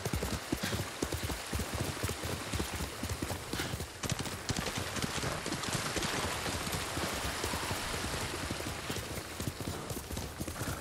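Horse hooves clip-clop steadily in Ghost of Tsushima on Iki Island, a continuous quick rhythm of close hoofbeats over a soft wash of rain or running water, with no talking.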